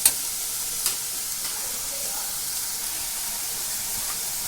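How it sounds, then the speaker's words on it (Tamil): Onions and tomatoes sauté in a pan for a chayote curry, producing a continuous, even hiss of frying with a couple of faint clinks near the start. "வெங்காயம் தக்காளி கொஞ்சம் வதங்கட்டும்"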